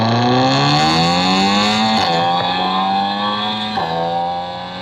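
A tuned Stage 3 VW Golf R engine and exhaust revs hard and loud, pitch climbing steadily with brief dips at each gear change, a continuous aggressive drone close by.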